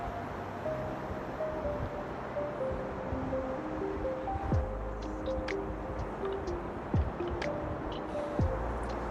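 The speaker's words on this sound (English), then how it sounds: "I kind of just laid down there for a while and just listened to the waves and the occasional seagulls" Steady ocean surf rolls onto a foggy sandy beach on an island, a continuous even wash of waves with no talking and faint occasional high calls.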